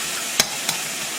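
Garlic sizzles softly in a skillet, a steady frying hiss broken by two sharp clicks of a utensil stirring, close and without speech.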